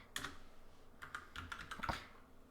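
Code being typed on a computer keyboard: bursts of quick, close key clicks with brief pauses between clusters, alone without talk.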